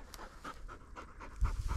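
A gun dog on a sharp-tailed grouse hunt in the Montana prairie pants softly and rapidly at close range, a quiet rhythmic huffing with faint outdoor background.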